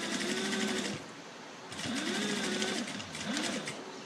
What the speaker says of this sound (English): And we're only stitching the top of it.